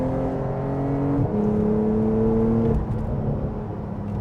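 Porsche 911 Targa 4S in sport mode with variable exhaust, downshifting and revving on a mountain road: a steady engine drone rises in pitch, breaks at a gear change, climbs again, then drops off into lower rumble.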